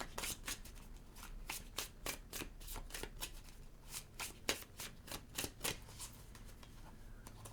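Tarot cards being shuffled, a steady run of quick papery riffles and snaps close by, fairly quiet, with no voices over them.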